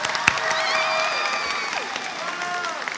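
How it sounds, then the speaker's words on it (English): Graduation crowd applauding a retiring teacher at a high school ceremony, sustained clapping mixed with cheers and whoops, steady and fairly loud throughout. "give him a round of applause"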